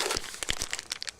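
Plastic packaging crinkles in short, close, rustling bursts while a Dark Crystal AverMedia capture device is unboxed, alone with no talk.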